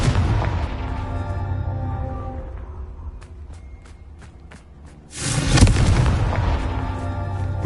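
Confringo fire spell from Hogwarts Legacy, a booming burst that erupts suddenly after a quieter stretch of faint rhythmic ticks, then a loud rumbling roar that stays heavy and sustained to the end.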